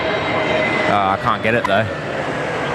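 An aircraft passes over Melbourne Airport with a loud, steady engine roar that continues while a person speaks over it briefly.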